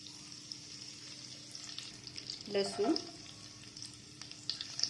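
Cumin seeds and curry leaves hit hot oil in a pan, making a soft continuous sizzle with a brief louder crackling burst midway, close and without talk.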